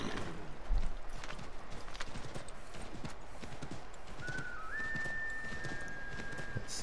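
Horse hooves clip-clop in a steady rhythm close by in the video game Assassin's Creed III, with a brief rising whistle partway through over a constant background hum.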